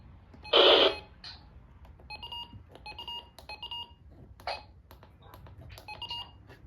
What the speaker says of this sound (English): So, the button beeps, this is what they sound like.